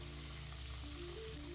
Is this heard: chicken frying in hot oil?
yes